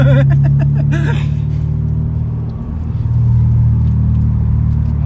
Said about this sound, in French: l'échappement fait sur mesure. Bon, c'est pas une ligne complète, c'est une demi-ligne, mais ça chante bien quand même